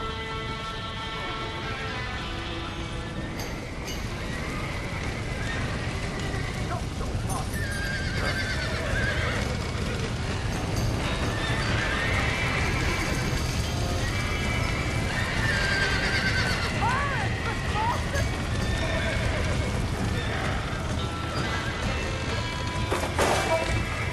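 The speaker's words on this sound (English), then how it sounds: "Now let's save the horses!" Horses neigh and whinny repeatedly in a Red Dead Redemption game scene, with hooves clattering and a rumbling fire-and-chaos backdrop throughout, loud and close.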